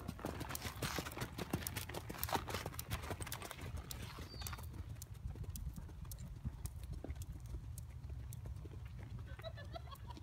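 An Icelandic pony lopes, its hooves drumming in a quick, steady rhythm, loudest at first and then settling into a softer, even beat with a rumbling background.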